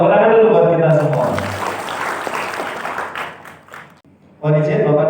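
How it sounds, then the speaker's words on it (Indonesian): Applause rises from the audience at a village procurement seminar, a dense spread of clapping that fades out after about four seconds, with speech before and after it. "Baik, tepuk tangan dulu buat kita semua."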